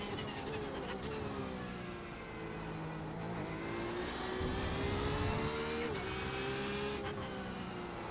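A Porsche 911 RSR race car screams around the Belle Isle circuit in Detroit, its engine note loud, close and continuous, rising and falling with throttle and gear changes.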